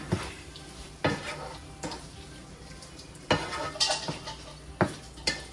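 Prawn thokku, a dry side dish for biryani, being stirred in a pan, with a low sizzle of frying and several sharp scrapes and clinks of a spoon against the metal at irregular intervals, no talk.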